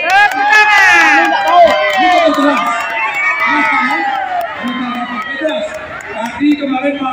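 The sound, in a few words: audience applause and cheering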